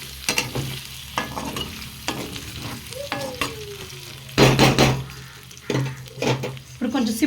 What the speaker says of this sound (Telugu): ఇప్పుడు కొంచెం సిమ్లో పెట్టుకొని ఫ్రై చేసుకోండి